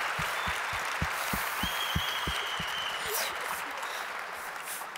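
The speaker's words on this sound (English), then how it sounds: "So one more round of applause." A keynote audience at Red Hat Summit 2019 claps in a steady roomy wash, with faint voices underneath; loud, rhythmic low thumps run through the first half.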